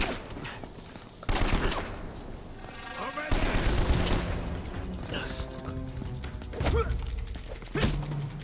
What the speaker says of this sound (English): You always seem to be getting shot at. They're shooting at you too, you know.